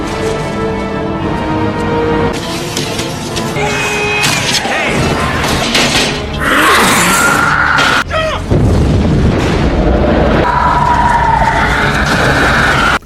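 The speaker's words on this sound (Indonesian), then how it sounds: "Denny membakar ular tersebut hingga cerobong asap meledak" In an action film, a chimney blows apart in a loud booming crash amid a dense, chaotic mix of roaring fire, wailing siren-like tones and crashing debris, with scattered voices in the scene.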